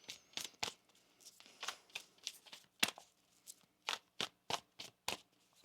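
Tarot cards are shuffled by hand in a series of quick, crisp riffling bursts with short pauses between them, close and fairly quiet, with no talking over them.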